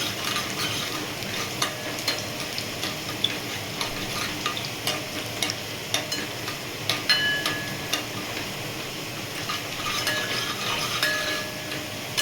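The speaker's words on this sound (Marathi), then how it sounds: "लसूण चांगला ब्राऊन कलरचा होईपर्यंत परतून घ्यायचा आहे" Garlic sautéing in a pan gives a steady sizzle while a spoon stirs it, with light ticking scrapes scattered throughout, close and even in level, and no one speaking.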